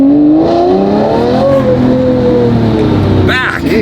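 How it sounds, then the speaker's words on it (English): Manual Lamborghini Murcielago V12 engine revving loudly and steadily while driving in a Canadian winter, with pitch rising and falling through gear changes, close and dominant for the whole stretch. "We're driving a manual Murcielago in winter in Canada."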